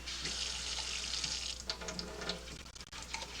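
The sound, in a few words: water running from tap into cans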